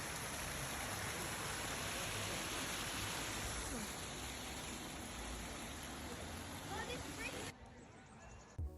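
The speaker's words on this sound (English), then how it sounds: "I even stumbled into this Japanese style corner with a little waterfall" A small waterfall in a Japanese-style garden corner at Keukenhof tulip garden in the Netherlands gives off a steady, broad rush of splashing water that fills the scene, then drops away abruptly near the end.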